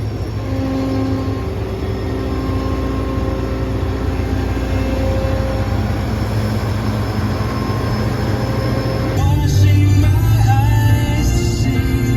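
A wheat harvester engine drones loud and close with a steady tonal whine, then its pitch shifts and wavers as it revs down near the end.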